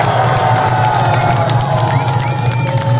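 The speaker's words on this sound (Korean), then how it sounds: "큰 박수로 맞아주시면 고맙겠습니다." Dense crowd noise from a packed outdoor election campaign rally in Daejeon for a Liberty Korea Party candidate, steady cheering and clapping with scattered shouts and whistles, loud and continuous throughout.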